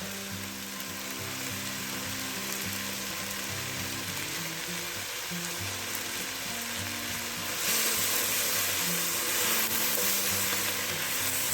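Onions frying in about 40 grams of butter with a few thyme leaves in a pan, a steady close sizzle and crackle running throughout and growing slightly louder near the end.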